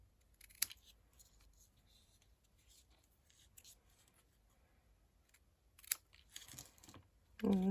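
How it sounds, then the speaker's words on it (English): Scissors snip thread at an angle during hand sewing with a small travel kit, a couple of crisp, quiet clicks between soft handling and rustling, close to the ear. "So I'm going to just snip that at an angle."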